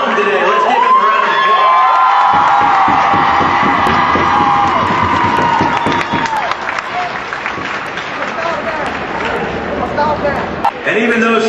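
A welcome-home crowd for an Army engineer unit breaks into loud applause and cheering with whoops and children shouting. The clapping stays heavy and dense for several seconds and then thins out, and a voice speaks over the start.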